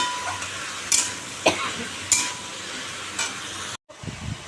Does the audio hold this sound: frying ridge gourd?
yes